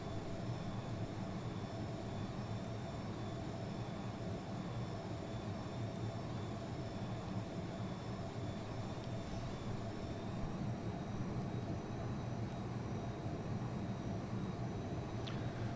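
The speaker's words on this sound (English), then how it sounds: "Let's get ourselves taxied over to the parking area, get our plane shut down" Steady low whine and hum of an F-22 Raptor jet taxiing at RAF Leuchars in FSX, a constant engine drone with a faint high tone, no voices.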